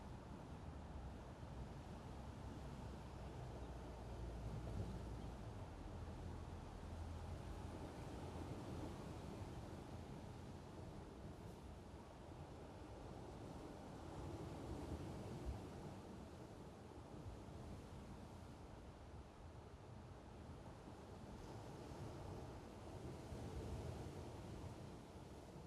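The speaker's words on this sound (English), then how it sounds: "The ocean seems to be calmer today. There's a little wind." Calm ocean waves wash steadily under a light wind, forming a soft, continuous surf hiss that stays faint and even throughout, with no voices.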